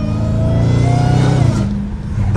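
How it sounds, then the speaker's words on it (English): A Dodge Challenger Hellcat Redeye roars loud and close on the street, its engine rising under power with a high supercharger whine layered over the exhaust before easing off. "the whine is everything on this car"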